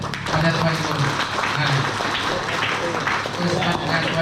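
Applause at a school event: a dense, steady wash of many hands clapping at a moderately loud level, with voices mixed in underneath throughout.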